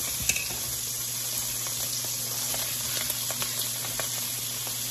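Chopped onion frying in hot rendered bacon fat gives a steady, close sizzle with soft crackles and faint pops, with no talking over it.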